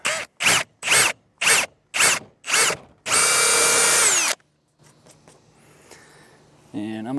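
A power drill whirs in six short bursts before a sustained run through a door for a cam-action latch and hasp, followed by softer handling and scraping noises.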